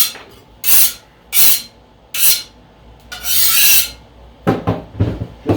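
A scraper rasps across a resin 3D printer build plate in several short, close strokes, a longer scrape in the middle and a quick flurry of smaller scrapes at the end, with no talking.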